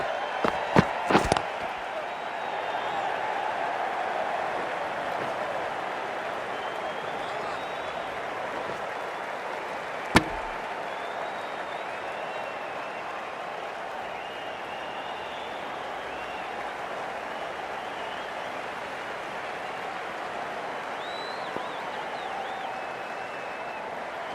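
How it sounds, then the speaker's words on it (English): A stadium crowd in the cricket game Cricket 24 keeps up a steady, continuous roar and hum from the stands, with a few sharp claps and thuds near the start and one loud knock partway through. "There's a buzz, a real buzz coming from the stands."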